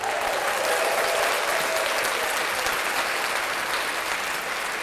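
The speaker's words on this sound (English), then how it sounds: "I'm going to clap that up for Kanye." Loud, dense applause from a group clapping for Kanye on a hip-hop podcast, a sustained roar of hands at steady level across several seconds, easing slightly toward the end.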